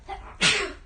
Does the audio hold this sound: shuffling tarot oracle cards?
no